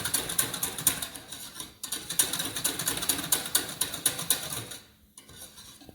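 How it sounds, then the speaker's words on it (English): A whisk works a cheese sauce in a pan, making quick, rhythmic metallic scraping clicks close by. The whisking pauses briefly, then continues before stopping near the end, leaving quiet background. "I'm continually whisking it"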